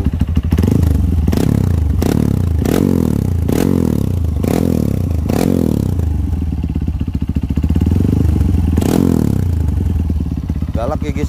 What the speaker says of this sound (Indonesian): Ini suara knalpotnya, guys.